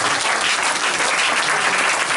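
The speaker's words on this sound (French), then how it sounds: "Donnons une acclamation." Church congregation at a worship service breaking into loud, dense applause, an unbroken wash of many hands clapping together at close range.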